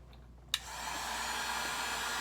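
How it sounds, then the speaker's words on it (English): A small Harbor Freight heat gun, used on epoxy tumbler work, clicks on with a sharp snap, then settles into a steady, close, airy blowing whir that continues to the end. "Take my little heat gun that I got from Harbor Freight."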